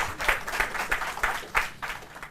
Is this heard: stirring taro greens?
no